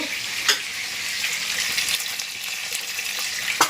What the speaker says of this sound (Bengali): মাছটা ভাজি ভেজে নিই